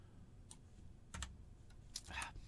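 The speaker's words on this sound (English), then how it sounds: "Typing, I'm sorry. I'm usually much better typing" A few scattered keyboard clicks and key taps, quiet and close, in an otherwise hushed room.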